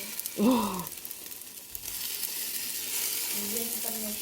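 Steady frying sizzle of pancakes sticking in a new hot pan, a continuous hiss throughout, with a brief voice near the start and again at the end.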